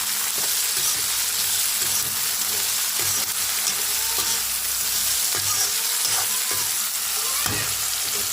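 A curry fries in a pan with a steady, close sizzle and crackle, broken by occasional scraping stirs and clinks, with no talk.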